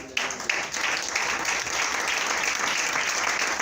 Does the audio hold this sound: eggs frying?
no